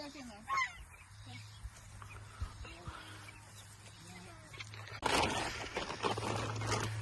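A lone guinea fowl calls with a few honking, cackling cries near the start, over a steady low hum, followed by louder rustling and scraping from about five seconds on.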